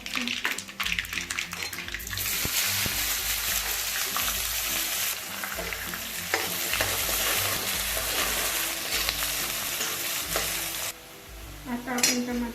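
Onion hits hot oil in a pan with cardamom, black cumin and fennel for stuffed okra masala, bursting into a loud, steady, close sizzle that fills the whole stretch before easing slightly near the end.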